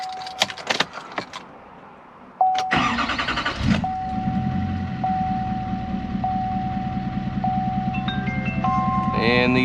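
An L5P Duramax diesel truck engine cranks briefly with a loud burst, catches and settles into a steady, rumbling idle, while dashboard warning chimes ping repeatedly and a few clicks sound before the start.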